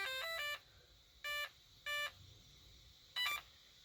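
Electronic beeps from a radio-controlled car's newly fitted brushless speed controller after its button is pressed: four short, clean tonal bursts, the first and last as quick multi-note sets, fairly faint against a quiet room.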